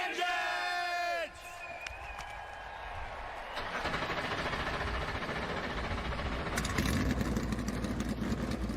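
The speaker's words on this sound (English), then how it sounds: "let's get the command to start engines" Race car engines in a racing video game of the historic Daytona 500 fire up and settle into a loud, continuous idle, following a brief whooping tone at the start, with a crowd-like wash underneath.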